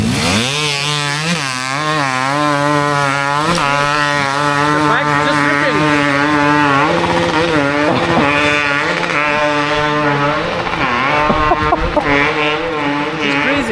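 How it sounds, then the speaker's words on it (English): A two-stroke enduro motorcycle on a steep hard-enduro hill climb in Bulgaria screams at high revs, its rasping whine wavering as it bounces off the rev limiter. The sound is loud and continuous. "I didn't know two-stroke had a rev limiter."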